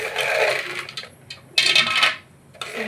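Peanuts tumble into oil in a pan, a bright rattling patter in two or three bursts with short quiet gaps between them.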